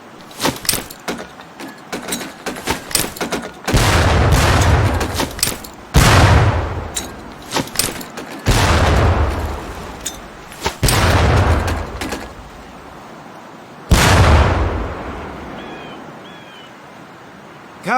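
Training grenades burst one after another against barrels on a Medal of Honor Pacific Assault boot camp range, a loud series of five or six heavy booms with crackling debris tails, spaced a few seconds apart.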